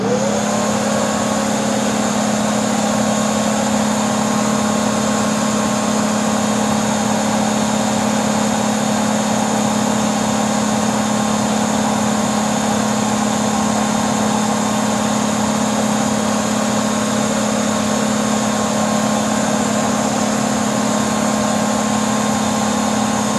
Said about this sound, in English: Now, let me turn the brush roll on and see what kind of differences there might be.